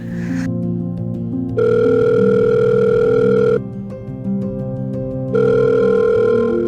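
A telephone rings with a steady electronic tone in two long bursts separated by a pause, loud and close over a soft musical background, with no talking.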